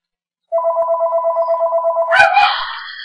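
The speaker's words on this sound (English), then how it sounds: "Answer the phone, please, quickly." An old-style telephone bell rings loudly in a steady trilling pattern for about a second and a half, then is cut off by a burst of clattering noise, with no one speaking.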